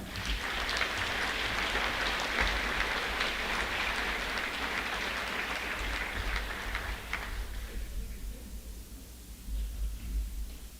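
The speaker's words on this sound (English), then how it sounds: "Let's give one more applause for our seniors at Wapsie Valley." Steady applause from a crowd at a high school wrestling meet, a dense wash of clapping that fades somewhat toward the end before swelling briefly again.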